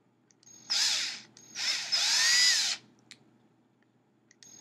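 Power drill boring holes into a raw carrot to make a carrot clarinet: two loud high-pitched whirring bursts, the second longer, close up with brief clicks between.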